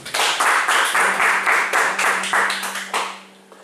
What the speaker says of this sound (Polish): Także może, nie wiem, brawa dla Arka